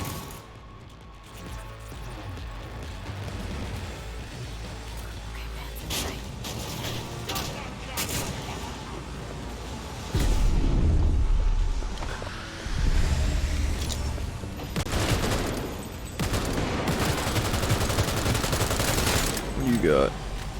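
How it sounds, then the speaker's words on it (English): Automatic turret gunfire in the video game Cyberpunk 2077, dense bursts of shots mixed with mechanical game noise, growing louder and more intense in the second half, with a person talking over it at times. "Turret."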